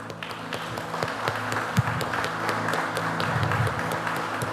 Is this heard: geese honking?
no